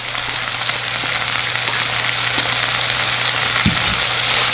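Webfoot octopus stir-frying in a pan with green and red chili peppers and seasoning sauce makes a loud, dense crackling sizzle over a constant low hum, with one soft knock near the end.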